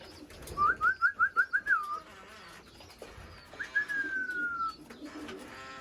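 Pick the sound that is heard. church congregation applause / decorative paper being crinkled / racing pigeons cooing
racing pigeons cooing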